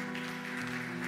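Church congregation applauding during a sermon, a steady wash of claps filling the room with a low organ-like hum beneath, no voices standing out.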